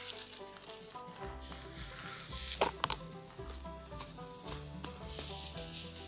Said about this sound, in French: Fait qu'on vient juste saisir nos légumes.